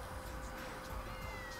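Cat meowing in GTA V gameplay: a drawn-out, whiny meow set against a dense, noisy game soundscape, fairly faint and steady throughout.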